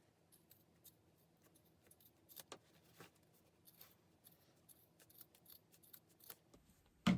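Scissors snip through sewn patchwork scrap fabric in a quiet room, a run of soft, close, irregular cuts with short pauses between them, ending in a louder bump.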